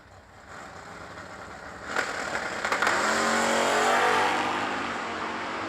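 Drag racing cars at the 9th Annual New Year Nationals, including a Dodge Duster and an AMC Gremlin, idle and then launch hard off the starting line, the roar building loud and staying loud as they pull away.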